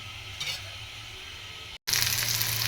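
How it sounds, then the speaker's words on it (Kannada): Sliced onions fry in hot oil, giving a steady bright sizzle that briefly cuts out and then returns louder and fuller, close and with no talking. "ಈಗ ಉಳ್ಳಾಗಡ್ಡಿ ರೀ ಅದನ್ನು ಹಾಕಿನ್ರಿ ಈಗ ಈ ಉಳ್ಳಾಗಡ್ಡಿನ ಚಲೋ ಎಣ್ಣೆ ಒಳಗೆ ಫ್ರೈ ಮಾಡ್ಕೊಂಬಿಡಂತೆ"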